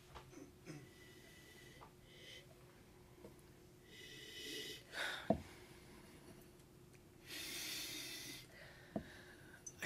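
Someone sniffs a glass of 2009 Torrontes white wine in two long, breathy inhalations close to the microphone, quiet overall, with a few small clicks and taps between them.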